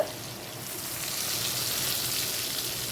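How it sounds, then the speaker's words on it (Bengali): Cashews and raisins fry in a khichdi tempering with a soft, even hiss that builds slightly and holds steady, close by and with no talk. "এবার আমি কাজু কিশমিশটাকেও দিয়ে দেব।"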